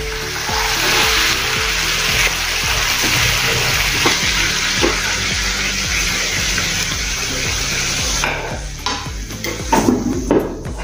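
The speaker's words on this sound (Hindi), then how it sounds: "अच्छे से मिक्स कर लेंगे और भुनेंगे थोड़ा सा" Masala of red chili powder and turmeric fries in a pan, giving a steady, close sizzle with repeated spoon-stirring scrapes and taps throughout. No one speaks.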